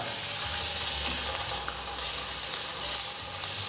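Pork belly sizzling and frying in a hot pan for a Thai soy-sauce braise, a steady close hiss and crackle running throughout with faint stirring scrapes and no talking.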